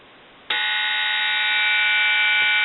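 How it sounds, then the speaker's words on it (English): Dial tone from a brushed stainless reproduction Ericofon telephone: after a faint half-second lead-in, a loud, steady continuous tone switches on abruptly and holds unchanged to the end. "We will get dial tone"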